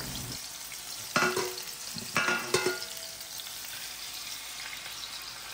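Masala-marinated food frying in hot oil, a steady close sizzle with three sharper bursts of crackle and spatter as pieces are moved or stirred, no voices.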